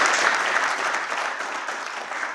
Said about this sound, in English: I'd like us to applaud him for that